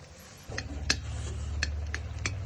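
Boiled raw mango being mashed in a pot, a few sharp metallic taps and scrapes of a utensil against the pot over a steady low hum, close and moderate in level.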